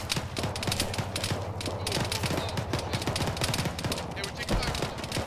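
Gunfire fills a military video game battle: rapid, dense bursts of shots and automatic fire crackle on and off without a break, with voices talking faintly underneath.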